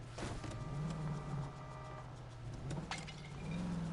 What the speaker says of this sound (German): das Auto macht komische Geräusche wie ein Hubschrauber